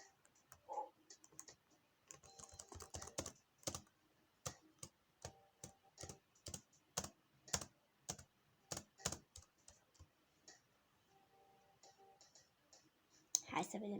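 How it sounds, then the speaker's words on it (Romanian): Keys on a computer keyboard are tapped in uneven bursts of sharp clicks, close and fairly quiet, with pauses between runs and a louder clack at the end. "apăs pe taste"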